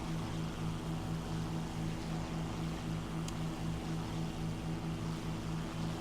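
Steady, continuous drone of a Fw 190D-12 fighter's piston engine in a flight combat video game, a constant low hum with a steady buzz, loud and unbroken throughout with no talk.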